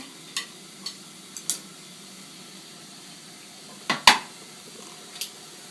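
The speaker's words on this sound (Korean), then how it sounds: "호박을 볶아주시고요." Zucchini stir-fried in a pan for bibimbap, with a handful of sharp utensil clicks and scrapes against the pan scattered over a quiet background, two louder knocks close together near the end.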